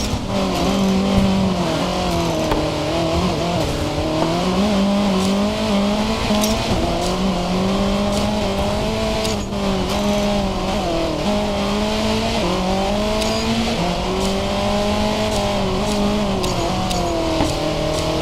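Race car engine in the Racing Master video game, a loud continuous whine rising and falling through gear changes over nearly twenty seconds, with intermittent tire squeal and skidding as the car works through corners.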